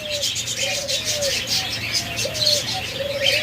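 Caged Indian ringneck parrots give repeated short, rising squeaky calls at close range over a constant hiss of background noise.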